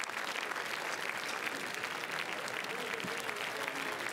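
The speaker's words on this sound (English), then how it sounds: "So everybody applauding when the talent arrived." A large crowd applauds along the Cannes Film Festival red carpet, an even, continuous wash of distant clapping that holds steady from start to finish.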